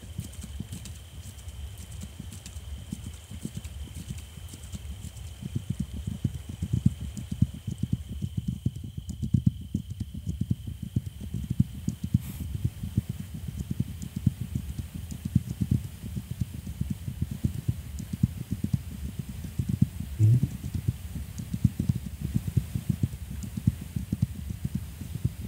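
Horse hooves clip-clop steadily while riding in the video game This Land is My Land, a continuous muffled patter of footfalls in the low end that carries through the whole stretch without speech.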